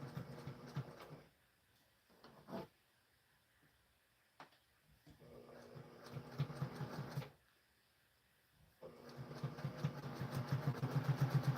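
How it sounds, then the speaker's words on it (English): A sewing machine stitches a pillowcase seam at a quarter inch, running in several bursts separated by short pauses, with a faster steady stretch of stitching at the end; close and fairly quiet. "And I'm going to back stitch."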